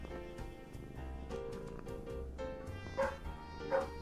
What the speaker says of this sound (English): There he goes, barking off a storm.